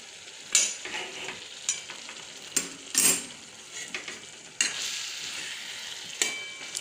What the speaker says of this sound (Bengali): তো এটা দেখুন কষতে কষতে আমার আলু পটলটাও সিদ্ধ হয়ে যাচ্ছে।